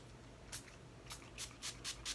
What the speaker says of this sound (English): We're gonna use our setting spray to let down this powdery look.